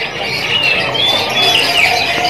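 Young F2 canaries chirp close by, with thin rising and falling whistled notes that come in quick succession over a busy background.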